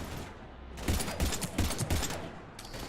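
Gunfire in the video game Mass Effect 3: a quick volley of several sharp shots in an uneven burst, fairly close, over a steady background hum.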